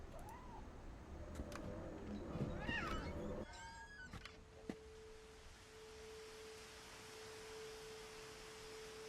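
A cat in the video game What Remains of Edith Finch gives a few meows amid game ambience and rustling, followed by a long steady electronic tone, faint overall.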